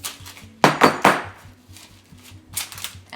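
Several quick, hard taps of a pan of brownie batter knock against a counter in a tight cluster, followed by a lighter pair of taps a moment later, close and clear with no talking.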